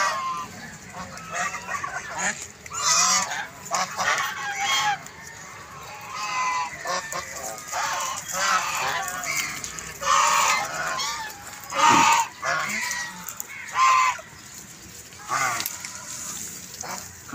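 A flock of ducks, with a nearby fish tank, gives repeated loud honking and quacking calls in irregular bursts throughout, close and busy, with no talk over them.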